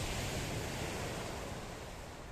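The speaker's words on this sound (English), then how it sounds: "watch the waves crash upon them as they hit the shoreline" Sea waves crash steadily against rocks along the Paphos coastal shoreline in Cyprus, a loud, continuous broadband surf roar with wind, no pauses across the short stretch.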